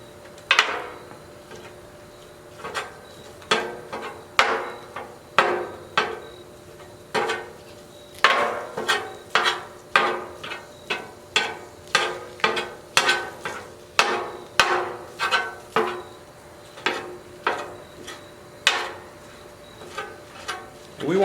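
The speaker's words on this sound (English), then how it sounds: "now let's chop up the sausage just off screen here, and let's get that cooking for you" A knife chops Italian sausage on a cutting board in a quick series of sharp, close, rhythmic thuds, some clustered and some spaced, over a quiet kitchen background.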